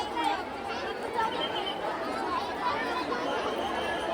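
A large crowd of devotees chattering at a temple mahaprasad meal during the samadhi anniversary celebration of Moraya Gosavi Maharaj, a dense, continuous, fairly close babble of many voices with no pauses.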